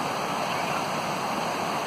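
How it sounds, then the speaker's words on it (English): Ocqueoc Falls, a waterfall in northeast lower Michigan, gives off a steady, close, broadband rush of falling water that holds constant without a break or any voice. "we're going to stop at Ocqueoc Falls and see the falls and see what's going on here"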